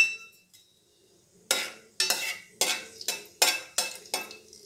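Cloves, cinnamon and bay leaf frying in a pan for tomato rice: a faint sizzle, then about eight sharp, evenly spaced bursts of spoon scraping and stirring against the metal.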